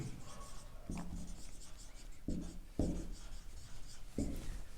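Chalk or marker writing on a board during a math lecture on partial differentiation: quiet, intermittent scratchy strokes in a few short bursts against faint room noise, with no talking.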